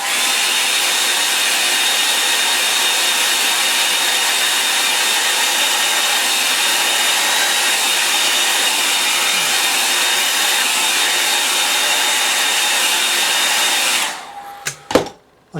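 A hair dryer blows steadily and loudly on wet paint on a small model cottage, a constant whooshing roar that runs for about fourteen seconds before cutting off, followed by a couple of brief knocks.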